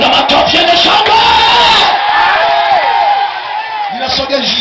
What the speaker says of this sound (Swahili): Lakini washabiki wa Yesu Kristo, piga makofi yenye shangwe.